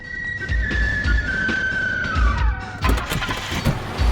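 A car in an action film scene pulls away, engine sounds and bursts of low rumble under a whistling, siren-like tone that glides downward, followed by a burst of rattling, thumping movement.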